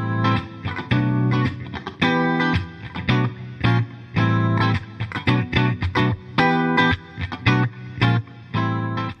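Music track processed through the smart:reverb plugin, with a sonible reverb effect on the audio and its clarity setting keeping the direct signal unmasked; loud, dense, rhythmic chords and beats with short gaps, playing continuously with no talk.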